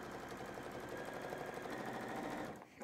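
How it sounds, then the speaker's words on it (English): Sewing machine stitching down quilt binding toward a corner, a steady continuous whir with fast, even needle rhythm, close but low in level, stopping abruptly near the end. "I'm just going to stitch down here, heading towards a corner"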